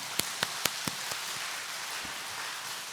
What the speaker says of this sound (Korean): 우리 박수로 하나님께 영광을 한번 올려드릴까요?